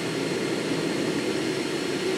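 Jet engines of an ANA Boeing 777-300ER roar steadily at takeoff, a dense, continuous rumble heard from inside the cabin with no talk over it.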